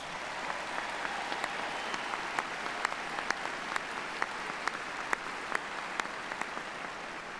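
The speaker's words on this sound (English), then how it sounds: "Let's give him another round of applause." An audience at an undergraduate commencement ceremony applauds in a steady, even wash of many hands, moderately distant and fairly soft, with a few sharper individual claps standing out.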